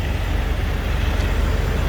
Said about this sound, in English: And these trucks are so loud.